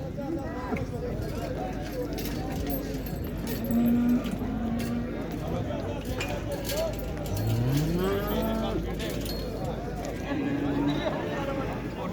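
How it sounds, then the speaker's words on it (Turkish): Several cattle moo loudly in a noisy crowd at a livestock market in Şarkışla, Turkey, long low calls rising and falling over a steady hubbub of people talking. "Burada da inekler var."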